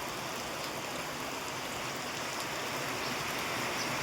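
A continuous, even roar of floodwater pours over a village road in the Gariyadhar–Jesar area after out-of-season rain, a close, unbroken hiss and gush with no pauses or voices.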